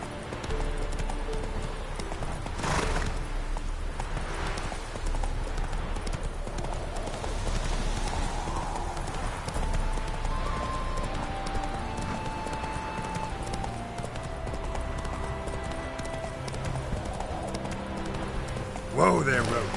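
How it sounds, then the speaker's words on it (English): In The Witcher 3: Hearts of Stone, the horse Roach gallops with a steady, close clip-clop of hooves beneath game music, a short neigh coming through amid occasional speech. "Whoa there, Roach!"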